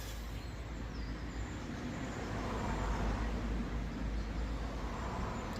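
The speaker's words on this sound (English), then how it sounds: "Here comes a car." A car crossing a road bridge beside a canal, a steady low rumble of tyres and engine swelling to a peak midway and then fading, with no talk.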